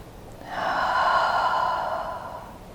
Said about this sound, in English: So let's take another nice, deep, deep breath.